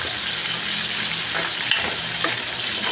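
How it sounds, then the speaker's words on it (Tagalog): Onion, garlic and ginger sizzle and crackle steadily in a hot pan, a continuous frying hiss with occasional stirring scrapes, close and even throughout. "gisahin ko yung sibuyas, bawang, luya"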